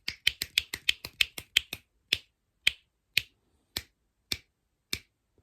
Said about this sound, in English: today I'm gonna be teaching you guys how to snap your fingers